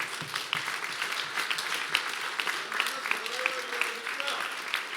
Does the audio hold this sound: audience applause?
yes